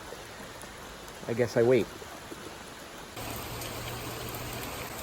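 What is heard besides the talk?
rain falling on lawn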